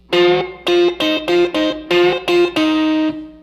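Hybrid-picked electric guitar phrase from the intro of a song, with distorted, chorus-tinged tone: seven or eight separated plucked notes in an uneven rhythm, closing on a longer sustained note, loud with no voices.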